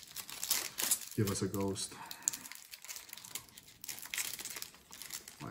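A Ghost From the Past trading card pack crinkles and tears in brief crackling bursts while a person talks over it.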